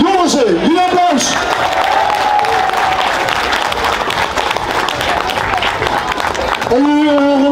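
A carnival crowd breaks into sustained applause, loud and dense, with a voice speaking over the start and end of the clapping.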